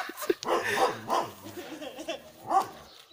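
A frightened dog barks and whimpers up close, with short yelps and whiny tones, loud and unsteady across a few seconds.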